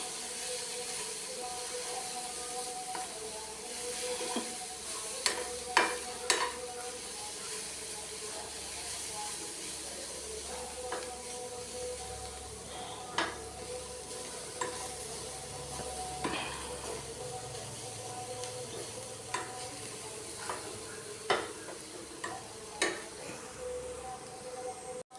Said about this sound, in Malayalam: തേങ്ങ ഒന്ന് നല്ല ചുവന്ന് വരുന്നത് വരെ നമുക്ക് ഇളക്കി കൊടുക്കാം